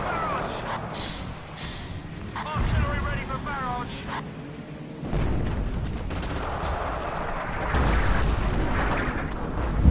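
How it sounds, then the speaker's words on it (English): Artillery from a 25 pounder field gun and a mortar firing in the Second World War shooter Forgotten Hope 2, with dull booms and rumbling blasts rolling through wind-buffeted game noise while voices talk over it. "There's like another 25 pounder, and there is a mortar firing."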